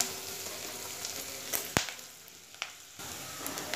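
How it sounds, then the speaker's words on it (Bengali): Chopped onion frying in a pan until soft for a Bengali egg curry, a steady quiet sizzle with one sharp clink of a utensil midway and a few soft stirring scrapes. "পেঁয়াজটাকে কিন্তু লাল করে ভাজবো না, নরম হয়ে আসা অবধি ভেজে নেব।"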